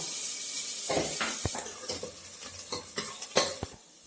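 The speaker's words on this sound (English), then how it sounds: "fry the onion till it turns golden brown" Steady sizzling of onion frying in a pan, with scattered scrapes and taps of a utensil stirring it; no voices.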